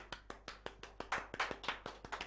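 A few people clap softly in a small radio studio in Mito, Ibaraki, a quiet run of about fourteen close, dry claps at a steady brisk pace.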